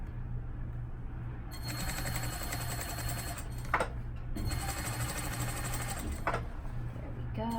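Sewing machine stitching a continuous fabric seam, a close rapid mechanical whir in two long runs separated by short pauses and clicks.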